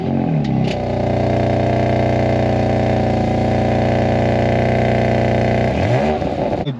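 A 2019 BMW M4 coupe engine idling close by with a deep, steady, rumbling drone, rising briefly at the start and settling again near the end.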